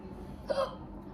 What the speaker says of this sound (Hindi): मेरी हिचकी नहीं बंद होती यार जब मैं मिर्च खा लूँ